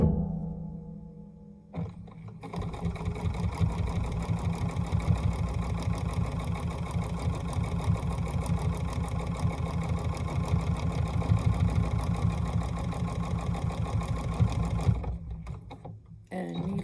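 A sewing machine quilting a quilt-as-you-go block runs in one long steady stitching stretch, a loud close rhythmic hum after a brief start-up, stopping near the end.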